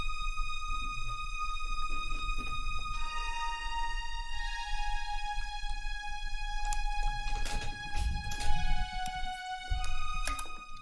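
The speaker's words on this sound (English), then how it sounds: "I got some strings from XV." A strings patch from a Roland XV synthesizer plays sustained, layered tones. The pitches step down a scale in shifting chords, with some sharp percussive hits near the end and no voices.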